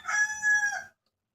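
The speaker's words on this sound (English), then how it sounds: "Rooster alert." A rooster crows once, loud and close, a single drawn-out call of just under a second with no talk over it, followed by silence.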